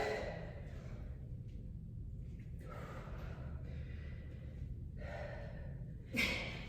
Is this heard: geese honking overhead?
no